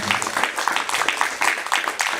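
Congregation clapping in rhythm during a church service, a steady pulse of hand claps of moderate loudness that carries on without a break.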